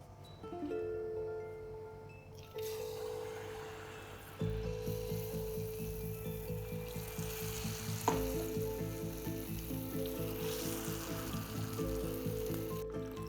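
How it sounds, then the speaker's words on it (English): Battered paneer sizzling and crackling steadily in hot oil, loud and close, with occasional stirring or tossing noises and no talking. "This needs to be fried on a high flame for two reasons."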